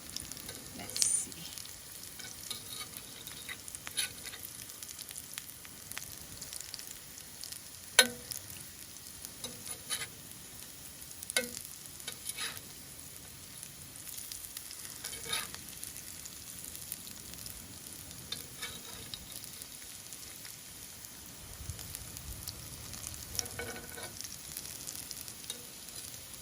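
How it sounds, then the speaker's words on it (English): Rumali vadi pieces shallow-fry in about a tablespoon of oil, giving a steady, soft sizzle with faint crackles and pops throughout, close by and alone with no voices. "Now I am shallow frying these in kind of little oil."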